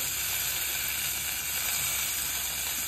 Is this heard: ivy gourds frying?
yes